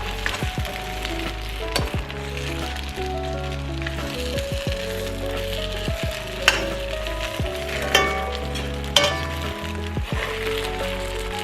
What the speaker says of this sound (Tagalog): Very careful lang po sa paghalo ng ating shrimp.